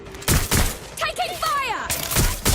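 Rapid gunfire from Watch Dogs: Legion on Xbox Series S, loud and close, arriving in several sharp volleys with warbling, swooping tones in between before more shots snap at the end.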